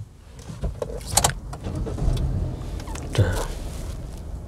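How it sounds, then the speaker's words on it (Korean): A car engine cranks and starts during a driving licence test, with a rough mechanical rumble and a few clunks building into a steady running hum inside the cabin. No one speaks. "자, 시동 거시고."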